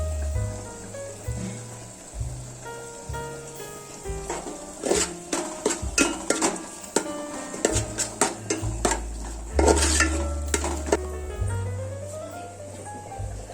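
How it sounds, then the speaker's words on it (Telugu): Masala paste for Andhra-style fish pulusu frying in a pan, with clattering spoon scrapes and stirring knocks against the metal over a faint sizzle, irregular and close, alongside background music. "కొంచెం పేస్ట్ 5 minutes ఫ్రై చేసుకోండి."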